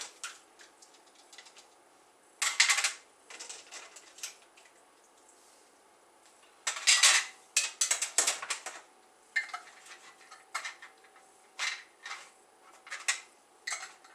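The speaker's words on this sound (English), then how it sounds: "just put your lids on, make sure they're on tight" Glass jars filled with passionfruit jam get their metal lids screwed down tight, a run of close, sharp clicks and scraping twists in irregular bursts with quiet pauses between.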